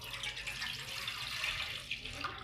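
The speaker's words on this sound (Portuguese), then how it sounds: "Primeiramente, coloco o leite" Milk pours steadily into a pan at the start of a homemade doce de leite, a continuous liquid splash and trickle heard close and alone.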